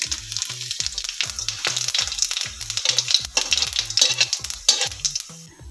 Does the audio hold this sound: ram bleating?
no